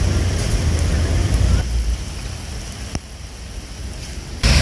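Steady rain falls heavily in Nassau outside a Cessna Citation jet, a dense continuous hiss with low rumble, easing slightly midway then surging again at the end.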